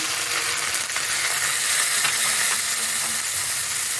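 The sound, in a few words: onions and poppy seed paste sizzling in a pan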